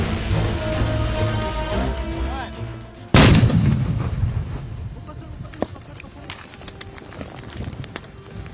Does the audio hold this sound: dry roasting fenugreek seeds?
no